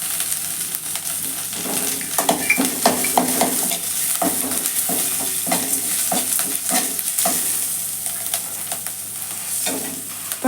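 Curry leaves and asafoetida powder sizzle in hot oil in a kadai while preparing semiya idli, giving a loud, close, continuous crackling hiss broken by short stirring clicks, with no voices.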